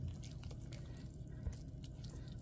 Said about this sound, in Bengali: এক টেবিল চামচের মতন পানি দিলাম